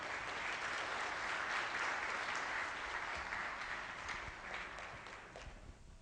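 Audience applause after a business talk on HR strategies in economic downturns, a dense, steady clapping from a room of listeners that holds loud for several seconds and then begins to thin out toward the end.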